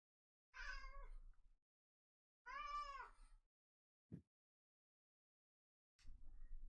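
A cat meows two clear, drawn-out times a couple of seconds apart, followed by a short thump and a low rumble, in an otherwise quiet room.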